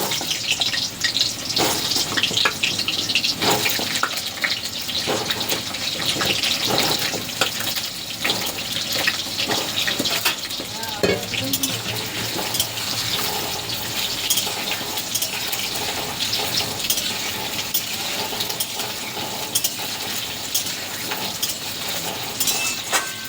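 Potatoes sizzle in hot oil in a home kitchen pan, a continuous crackling hiss joined by occasional clinks and splashy bursts as pieces are added one by one, without any talk.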